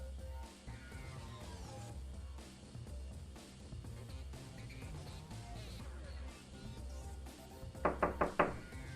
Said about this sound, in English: The door seems to be blocked from the inside, and the music coming from the room is so loud, my knocking probably can't be heard.